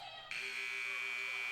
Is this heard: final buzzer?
yes